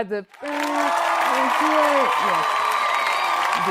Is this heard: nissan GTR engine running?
no